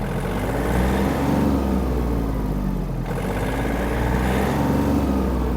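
A Yanmar RS-27 Japanese mini tractor idles while parked, its engine exhaust giving a steady, close, loud diesel chug with a low rhythmic throb and no talking.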